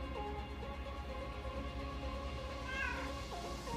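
A house cat meows several times in drawn-out, wavering calls, fairly close and clear above a low background hum.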